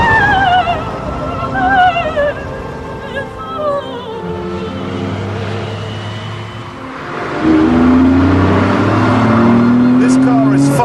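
A 5.7-litre car engine accelerating hard on Italian roads, a loud sustained roar whose pitch climbs and falls through the gears, swelling louder near the end, with a voice talking over it.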